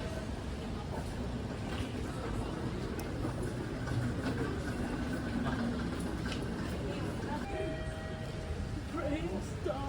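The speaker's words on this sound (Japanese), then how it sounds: "KLIA エクスプレスと KLIA トランジットの列車の乗り場になりますね" A KLIA Express train rumbles at the Kuala Lumpur International Airport station platform, a steady low rolling roar with faint clatter and a brief high whine, while a voice talks over it.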